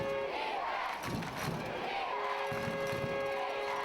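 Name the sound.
home crowd cheering at a high school football game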